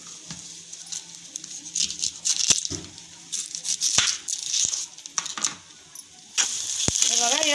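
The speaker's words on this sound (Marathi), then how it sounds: "बघा यात थोडं थोडं तेल टाकून आपण हा कांदा चांगला लाल करून घ्यायचा आहे मसाल्यासाठीचा।" Chopped onions fry in a little oil until reddish-brown for a chicken dum biryani masala. A steady close sizzle carries sharp scraping and tapping clicks from stirring, and a louder hiss swells near the end.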